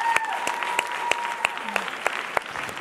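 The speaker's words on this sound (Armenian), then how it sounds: "ծափարում ենք այս հիանալի զույգին։" Sparse, rhythmic clapping from a dance show audience for a couple who danced a rumba, with evenly spaced claps over a faint sustained tone, fairly quiet and close.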